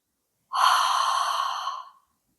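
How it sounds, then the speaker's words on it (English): Ujjayi breath in a hatha yoga practice, a single steady exhale pushed through a constricted throat, giving a hissing, ocean-like rasp. Close and clear, lasting about a second and a half, then stopping. "join me in Ujjayi breath"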